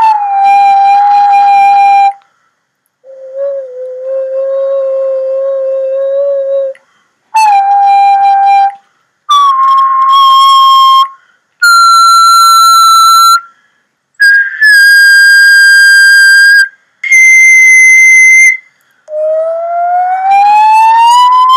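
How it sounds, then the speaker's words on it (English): A loud, clear whistle holding a series of sustained notes at varying pitches, separated by short pauses, with no other sounds. "you will see an oscilloscope-type graph that will react to me whistling"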